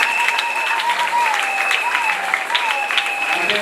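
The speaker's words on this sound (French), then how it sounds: "Si vous pouvez acclamer pour nous." Applause from an audience at a school event, a dense steady patter of clapping close by with a sustained voice-like tone running through it, continuous for a few seconds without pauses.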